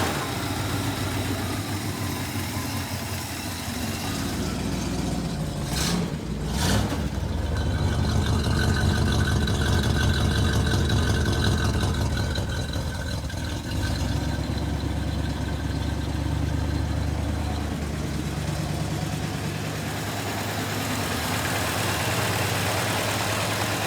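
A 1967 Plymouth Fury III engine, first started in 15 years, idles steadily for the whole stretch, a deep continuous rumble with a brief swell partway through, close by and fairly loud.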